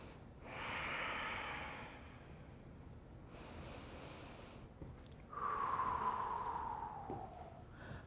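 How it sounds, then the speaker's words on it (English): Slow, deep breathing during a yoga gate pose: a soft, airy inhale followed after a pause by a longer, louder exhale, close and quiet with no talking. "Let's take 2 more breaths here"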